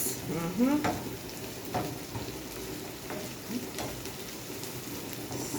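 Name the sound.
vegetables sautéing in a pan on the stove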